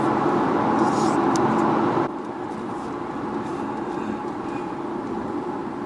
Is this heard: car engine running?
yes